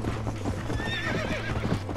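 A horse in the video game Red Dead Redemption gallops with rapid, rhythmic hoofbeats and lets out a high, drawn-out neigh midway, loud and close over a steady low game hum.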